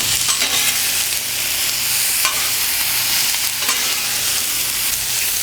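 Vegetables sizzle steadily in oil on a Blackstone flat-top griddle, a loud and continuous frying hiss with a few soft scraping stirs.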